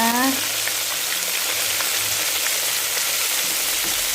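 Fish frying in a pan of hot oil, a steady loud sizzle and crackle running throughout.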